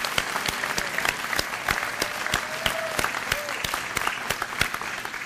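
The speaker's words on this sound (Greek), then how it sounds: "Ένα ακόμα χειροκρότημα για τον κύριο Ποτάκη." Sustained applause from an audience after a lecture on Ioannis Kapodistrias, dense crowd clapping with sharp, regular claps close by standing out throughout.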